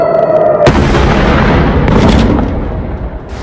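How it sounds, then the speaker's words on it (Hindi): A single loud explosion in Tel Aviv, from an air attack launched from Yemen, bursts suddenly after a tonal hum, followed by a long rumbling roar that slowly fades. "देखिए धमाका कितना जोरदार था।"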